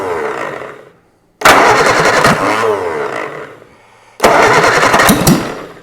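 A Reliant Super Van engine cranks and fires twice, each start bursting into a loud, close, rough running roar that holds for a few seconds before dropping away, with a brief quiet gap between the attempts.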